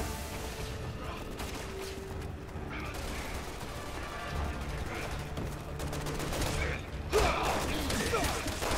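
Sustained gunfire in the video game Resident Evil 6, with dense bursts of shots and mechanical clatter running continuously and swelling louder toward the end, mixed with occasional voices.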